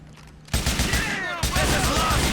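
AK rifle fire in the video game GTA IV: The Lost and Damned, two loud sustained bursts of rapid automatic shots, the second following shortly after the first.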